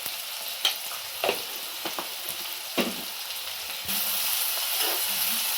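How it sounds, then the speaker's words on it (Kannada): Tomatoes frying in a pan with turmeric powder, giving a steady close sizzle broken by several utensil knocks that swells into a louder, fuller hiss partway through, with no voices. "ಸ್ವಲ್ಪ ಅರಿಶಿನ ಪುಡಿ ಹಾಕಿದ್ರೆ ಬೇಗ ಟೊಮೊಟೊ ಬೇಯುತ್ತೆ"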